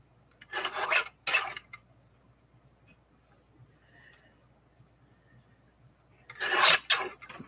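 Paper being cut out by hand, heard as three short, close rasping bursts: two near the start and one near the end, with quiet pauses between them.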